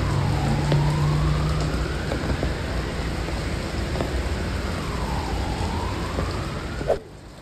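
Steady rain falls on a city street at night in Rasht, a dense, even hiss close by with faint distant rumbles of thunder and a rising and falling siren far off, ending in a sharp cutoff.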